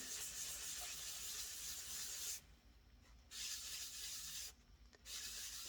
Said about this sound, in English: So now you're going to take and you're going to start buffing.